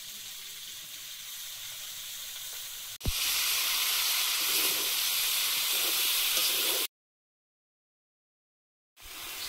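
Leafy greens, shrimp and potato frying in a hot pan, giving a loud continuous sizzle and hiss that swells after a sharp clatter, cuts to silence, then returns.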